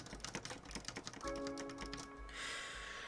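Mechanical keyboard keys on a KBD67V2 MKII build clicking in a rapid, irregular typing rhythm, close and quiet, with a faint hum in the background.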